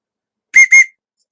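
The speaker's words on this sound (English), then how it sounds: "unless you come a trolling and then you get this whistle" Two short, shrill whistle blasts are blown in quick succession aboard a train to warn off trolling passengers. They are close and loud, followed by a faint tick.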